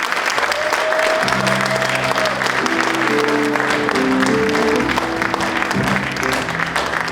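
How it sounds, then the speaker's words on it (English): Audience applause for the Park Avenue Methodist Church choir at a civil rights restoration event, steady and dense clapping filling the room, with sustained tonal notes like organ or singing layered over it. "give them a big round of applause"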